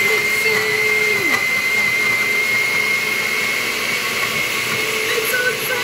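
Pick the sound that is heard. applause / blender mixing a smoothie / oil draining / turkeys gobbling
blender mixing a smoothie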